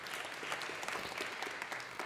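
A crowd applauds at a microchipping party, a dense and even wash of clapping that lasts the whole short moment, with no talk over it.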